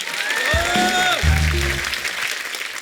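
A studio audience at a comedy show applauds with a broad, steady wash of clapping, overlaid by music tones and a low swelling rumble partway through.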